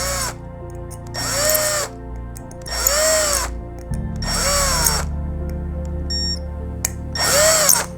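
A power drill boring jet holes around the rim of a homemade alcohol penny stove, with several separate bursts of whining drilling broken by short pauses, loud and close, with no talking.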